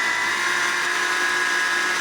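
A 70 A alternator from a Skoda 1.4 petrol engine, meant for a minitractor, spins on the bench with a worn, humming bearing, giving a steady, close whining drone with a constant tonal hum.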